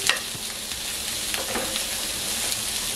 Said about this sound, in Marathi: आपल्याला आता कांदा भाजून घ्यायचा आणि खोबरं भाजून घ्यायचं आहे ना